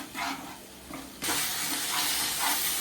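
Spice paste for a sole fish oil-and-chilli curry sizzles in the pan, bursting into a loud, steady hiss as water is poured in and continuing strongly to the end.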